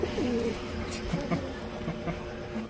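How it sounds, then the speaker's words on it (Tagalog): A pigeon coos softly in a few low, rolling phrases close by, against a steady noisy background hum. "Eh, kalapati siya."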